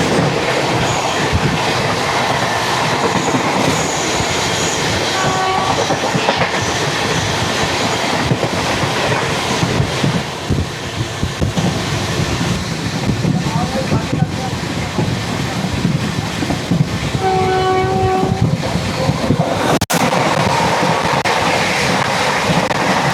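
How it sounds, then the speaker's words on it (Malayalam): The Tiruchirappalli–Sri Ganganagar Humsafar Express passes close by, a loud continuous rumble with rhythmic clickety-clack of wheels and faint tonal squeals, steady throughout, with voices in the background. "തിരുച്ചിറപ്പള്ളി ശ്രീ ഗംഗാനഗർ ഹംസഫർ എക്സ്പ്രസ് ആയിരുന്നു പോയത്."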